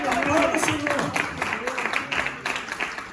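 A church congregation claps and cheers in a steady, dense wash of applause that carries on at moderate loudness under a preacher's ongoing voice.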